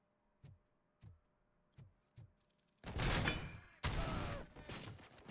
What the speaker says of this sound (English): I'm putting like 9 shots in them